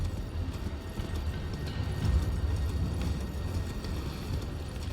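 Horse hooves in Elden Ring gallop continuously in a fast, dense rhythm under a low rumbling game backdrop, steady and moderately loud throughout.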